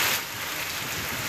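Heavy unseasonal rain with thunder, pouring steadily as a dense, close hiss with no distinct thunderclap in this brief moment.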